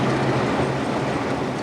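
A diesel train on the White Pass and Yukon Route Railway climbing a steep mountain grade makes a dense, steady, close rumble of rolling wheels and wagons, with no voices.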